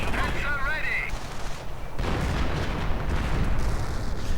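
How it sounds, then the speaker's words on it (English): Continuous heavy gunfire and artillery blasts from a 2v2 World War II real-time strategy battle with tanks and anti-tank guns, a dense loud barrage throughout with a brief whistling tone early on. "And sector artillery as well, absolutely tearing through."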